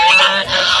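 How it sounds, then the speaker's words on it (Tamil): Geese honk in a single brief, loud, nasal cry that cuts off after under a second. "The answer is geese."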